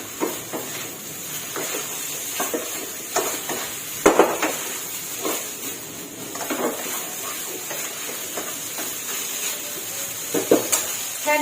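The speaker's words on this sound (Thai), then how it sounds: "ปิดท้ายด้วยต้นหอมค่ะ ใส่ลงไป นี่ค่ะพัดให้เข้ากันค่ะ" Shrimp fried rice with green onions being stir-fried in a pan, soft sizzling under irregular scraping and tossing clatters of a spatula against metal, close by with no talk.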